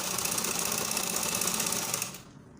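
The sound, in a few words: sewing machine stitching skirt lining front and back together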